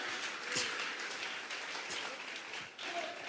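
A church congregation at a Thursday Bible doctrine service claps together in sustained, moderately distant applause, with voices murmuring underneath.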